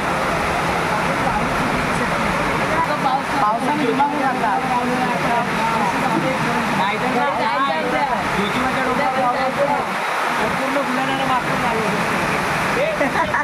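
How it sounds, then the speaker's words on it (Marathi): Heavy rain pours down at Panhala fort in Kolhapur, a loud, dense, unbroken roar of water that holds steady and close throughout. "पाऊस बघा एकदम जोर जोरात आला आहे।"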